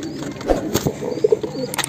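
Large pigeons coo in soft, low bursts close by, with a couple of short repeated coos and light rustling around them.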